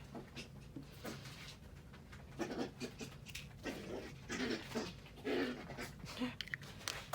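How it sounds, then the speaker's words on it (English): A dog pants in quick, breathy bursts nearby, with light scuffling and pattering sounds mixed in, and no voices. "Hear my dog. She is running around."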